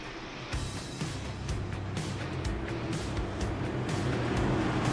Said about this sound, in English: Michael Johnson, Andrew Phipps, as the pace car pulls off left right here.